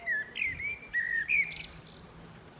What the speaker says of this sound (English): The blackbird is just up there beneath the TV antenna.